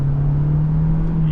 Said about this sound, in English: you're just hearing the engine revving and then the EV power is accelerating you